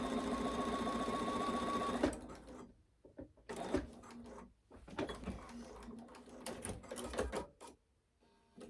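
A sewing machine stitching on a long stitch length, a steady fast close whirr for about two seconds, then stops, followed by quiet handling of fabric and thread with small clicks.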